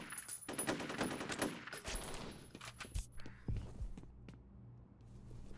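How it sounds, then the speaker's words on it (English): Enemies fire guns in a mobile video game, with rapid machine-gun bursts and sharp shots up close, thinning into scattered single shots and footsteps toward the end. "is this a different group of enemies that's shooting you?"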